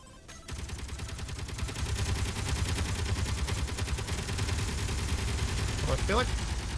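Automated turrets in the game Underground Alone fire continuously at incoming warheads, a dense, steady rattle of rapid shots filling the whole stretch at a loud, even level with no break.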